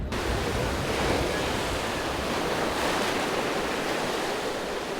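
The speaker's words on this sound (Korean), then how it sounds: "오늘은 파도가 높아 갈 수는 없지만 그런 파도를 보는 것도 즐거운 경험입니다" Strong, high sea waves crash along the rocky shore at Tonggumi on Ulleungdo island, a loud continuous roar of surf with wind buffeting the microphone and no talking.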